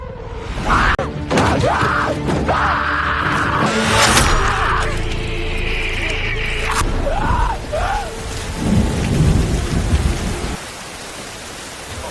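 Steady heavy rain pours throughout, with rumbling thunder rolling beneath it and a few brief higher sounds mixed in over the downpour.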